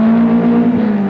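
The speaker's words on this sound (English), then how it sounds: "Steve Cox sorting out that downhill left-hander, setting it up through the sort of corner that rally drivers love" A rally car, Steve Cox at the 1983 NBN 300 Rally, drives through a downhill left-hand corner, with a loud, steady engine note held close throughout a brief moment and no talk.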